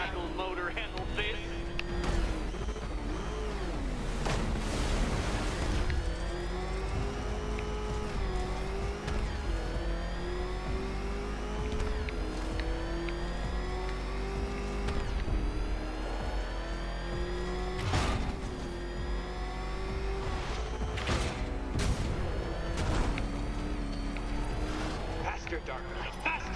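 The Batmobile roars through Batman: Arkham Knight, its engine revving up and down in rising and falling sweeps. Tire noise and impacts mix in, while game voices talk over the driving throughout.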